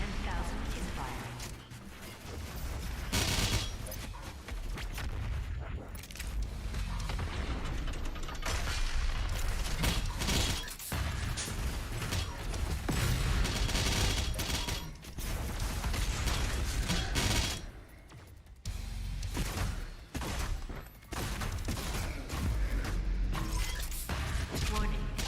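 The BFG 10,000 firing in Doom Eternal, heavy booming blasts and shattering crashes in a loud, dense battle mix, with a voice speaking now and then.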